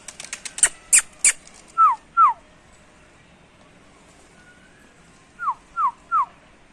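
A person whistles to call back trained pigeons, with a few sharp high whistles followed by two pairs and then a trio of rising, slurred whistle calls, clear and fairly close with quiet gaps between.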